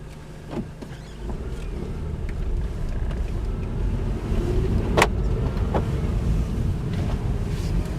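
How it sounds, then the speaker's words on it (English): A manual-transmission car's low engine rumble and road noise as it rolls slowly a couple of feet with clutch held in, with a few faint clicks and knocks from inside the cabin. "let the car roll a couple of feet"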